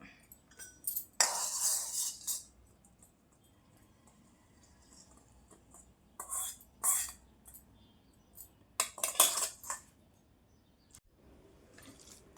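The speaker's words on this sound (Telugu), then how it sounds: "మనం వేసినవన్నీ బాగా కలిసేంత వరకు మంచిగా కలపాలి" A spoon stirs a mango and dried-coconut chutney with a cooled tempering in a bowl, giving three short bursts of scraping clatter separated by quiet pauses, close and fairly loud.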